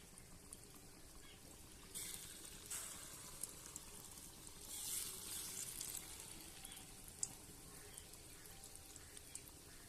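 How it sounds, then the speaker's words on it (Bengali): Lentil fritters (dal bora) frying in hot oil for a Bengali curry give off a soft, steady crackling sizzle, faint and continuous, with a few brighter spurts and no voices. "তেলটা গরম হয়ে গেছে এবার ডালের বড়াগুলো ভিজে নেবো"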